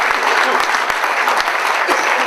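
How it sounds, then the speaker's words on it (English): An audience at an award event gives loud, close applause for Alvin, a brisk burst of many hands clapping densely throughout. "So there's a round of applause for Alvin."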